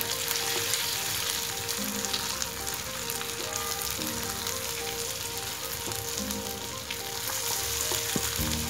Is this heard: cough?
no